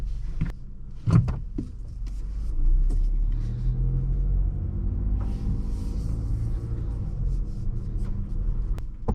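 A 2022 Mazda CX-5 2.5 Turbo pulling away, a low steady engine rumble and road drone from inside the cabin, with a couple of sharp clicks and thumps near the start.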